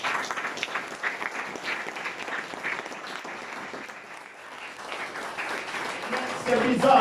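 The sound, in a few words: congregation applauding and cheering for Christ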